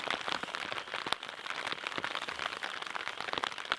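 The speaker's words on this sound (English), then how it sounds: "Nothing like waking up to the sound of rain." Steady rain patters on a low-profile camp shelter at an overnight campsite, a dense continuous hiss with scattered sharper drops close overhead, and nothing else heard.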